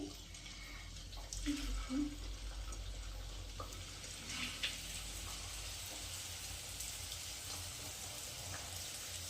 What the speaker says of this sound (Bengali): এবার আমি এগুলো এক এক করে তেলে দিয়ে দেব এই দেখো দিয়ে দিচ্ছি